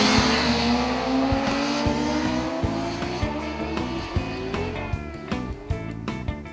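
Motorcycle on a racetrack shifting gears and picking up throttle mid-corner, heard as a rising engine whine with stepped gear changes and a rough rhythmic pulse, loud and fairly close throughout.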